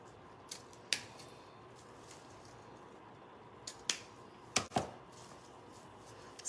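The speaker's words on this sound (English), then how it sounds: "so then I will trim my tails here" Scissors trimming the tails of a Christmas craft snip a handful of times, sharp and close, in quiet isolated cuts spaced over several seconds.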